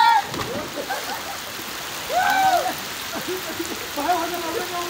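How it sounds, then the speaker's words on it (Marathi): Heavy rain pouring in Malvan, a steady wash of hiss and splatter behind people's shouting voices and chatter. "पाऊस बघा किती जोरात येतोय"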